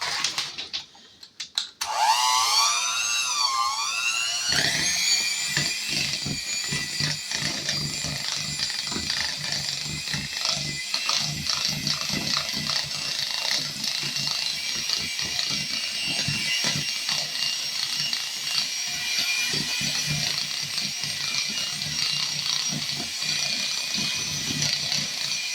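An electric mixer creams ingredients for cream horn filling, starting up with a rising whine and then holding a steady, loud motor hum with rattling beater noise close by.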